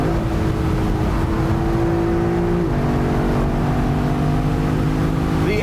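Lexus LC500 convertible engine hums steadily and loud from inside the car, with a brief step in pitch partway through and a short rise in revs at the very end.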